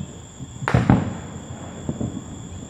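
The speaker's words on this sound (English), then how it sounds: "You do hear the fireworks" A couple of sharp Fourth of July firework bangs burst close together, followed by fainter pops further off, over a steady high electronic whine.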